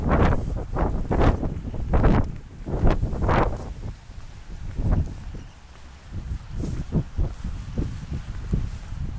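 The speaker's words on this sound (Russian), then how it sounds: "Ветер дует, он как бы уносит мои слова." Gusty wind on a street in Konyrat, Kazakhstan, blasts across the microphone in repeated loud rumbling bursts, easing and returning over several seconds, with no talking.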